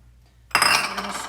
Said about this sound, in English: We're gonna stir it up.